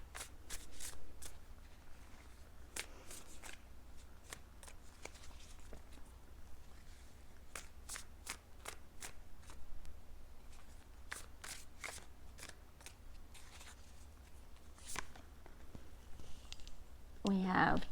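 Tarot cards shuffled and riffled by hand in a burst of crisp, papery snaps and flutters, close and fairly quiet, with steady low background hum.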